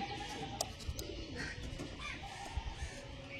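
Andhra Kalshira pigeons coo and call softly at close range, with a few sharp clicks and flutters over a low, rumbling background.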